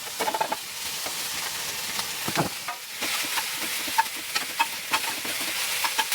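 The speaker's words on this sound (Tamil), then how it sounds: "இதை வந்து நல்லா வதக்கிப்போம்" Onion, tomato and chopped vegetables for masala oats sizzle steadily in a pan, with a spoon scraping and stirring at irregular intervals.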